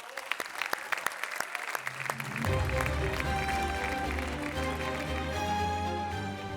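A studio audience on a Turkish television competition show breaks into applause. Sharp separate claps come first, then they swell into sustained, loud clapping mixed with music.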